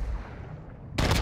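In the Call of Duty: Modern Warfare II video game, a sudden loud burst of gunfire cuts in at the end after a low rumbling ambience.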